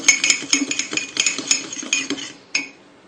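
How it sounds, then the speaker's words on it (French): A fork stirs egg yolk into mug cake batter in a mug, making a quick series of close, light metallic clinks and scrapes against the sides, with a brief pause before one final tap. "Il faut mélanger avec une fourchette"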